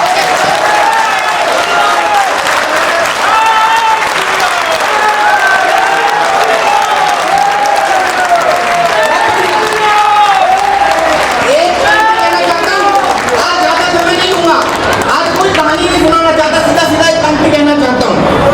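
A large crowd at a Rashtra Raksha Divas commemoration claps with both hands raised in the air, a loud, dense, continuous round of applause mixed with cheers and shouting voices.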